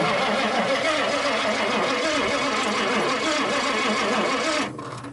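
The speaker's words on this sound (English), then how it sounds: "now we're going to see if we can get the fuel pump to prime and put some gas in our bottle here" Electric fuel pump on a 1959 Ford F-100 buzzes steadily as it primes, a loud continuous mechanical whir that drops away sharply just before the end.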